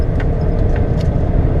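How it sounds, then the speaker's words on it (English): A heavy haul truck carrying a roughly 66,000-pound machine, 112,000 pounds gross, rolls downhill with a deep, steady engine and road rumble filling the cab, loud and continuous. "That's why the truck accelerates like crazy."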